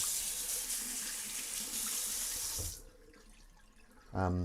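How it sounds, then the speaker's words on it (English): Kitchen tap running into a sink for washing up, a loud steady gush of water that stops abruptly, followed by a quieter pause and a short burst of voice. "Get that water going."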